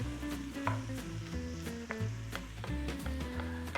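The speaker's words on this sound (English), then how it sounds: "Just want to stir fry it in, get it all to temp." Salmon stir-frying in a tomato-based sarciado sauce over medium heat, a steady soft sizzle with scraping and stirring clatter throughout, close and fairly quiet, no voices.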